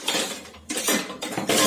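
Plates and cutlery clink and clatter in a home kitchen during breakfast preparation, with several sharp, close metallic and ceramic knocks in quick bursts and no voices.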